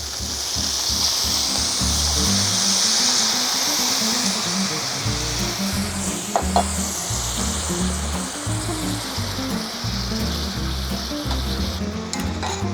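Wine poured into a hot pan of saltimbocca gives a steady, loud hiss and crackle that runs throughout, with a slight surge partway through.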